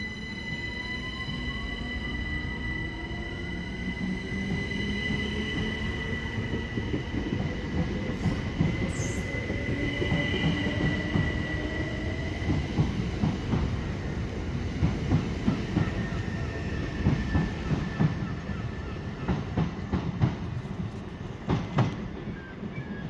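A Southeastern Class 375 Electrostar train rumbles steadily along the rails for a long stretch, with faint squeals and rhythmic clicks of wheels over track joints, no talking.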